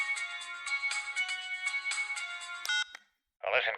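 A cell phone ringtone plays a bright, repeating electronic melody for nearly three seconds, then cuts off, followed by a short burst of another sound after a pause.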